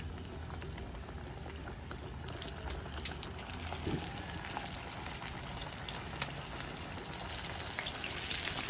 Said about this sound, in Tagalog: So ayan na nga, pinirito na natin ating crispy chicken.